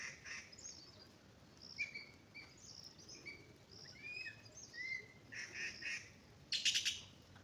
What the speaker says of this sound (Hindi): चिड़िया की आवाज़ सुनी आपने, ये भी कोई चिड़िया है, शायद ये पहाड़ी कोयल हो सकती है।